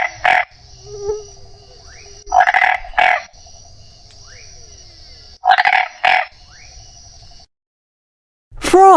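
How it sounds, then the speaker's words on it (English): Frog croaks from a wild-animal sound compilation: a few loud, short bursts arrive in irregular pairs over a thin sustained tone and quieter chirps, with no talking. "Frog."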